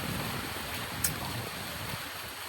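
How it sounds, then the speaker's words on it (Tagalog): Steady, strong wind rushes past the microphone, a broad continuous roar with a brief gusty buffet partway through. "malakas pa rin yung hangin"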